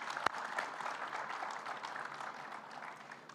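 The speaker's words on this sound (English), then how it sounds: "Let's give them a big round of applause." A live audience at a public event in Elizabethtown, Kentucky breaks into steady, sustained applause that fills the room from start to finish, with one sharp close clap near the beginning standing out above the dense crowd.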